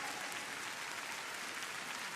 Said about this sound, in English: really warm applause for him